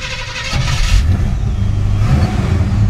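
A 1955 Chevy Bel Air coupe on a test drive in Sonoma wine country gives a loud, close engine roar that steps up in revs and then holds a steady rumbling drone.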